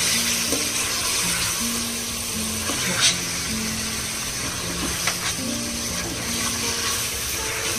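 Hot spiced water pours steadily into a pot of sautéed potatoes for potato dum biryani in a continuous, fairly close rush, with a voice faintly audible underneath.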